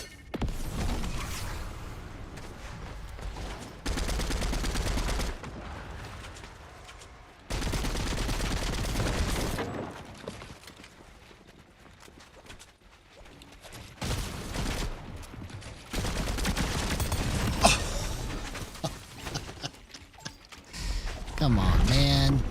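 Hunting rifle fire in a video game, heard as loud chunks of game sound with gunshots and mechanical clatter that cut in and out, broken by quieter gaps, with a voice talking over parts of it.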